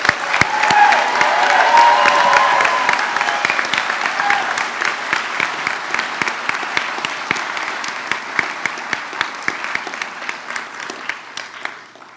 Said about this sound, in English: Let's give the class of 2029 one more round of applause.